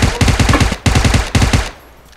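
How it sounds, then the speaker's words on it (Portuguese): Three loud bursts of rapid automatic gunfire in quick succession in the video game PUBG Mobile, then a short fade to quiet. "Opa, tiro, tiro."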